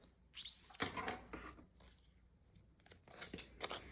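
Scissors snip a small piece of Cricut transfer tape on a crafting table, giving a few short, close, crisp cuts with light handling rustle between them.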